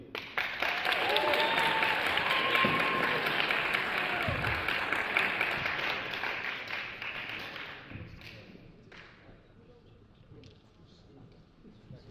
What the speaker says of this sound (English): we have to give a round of applause for the man and myth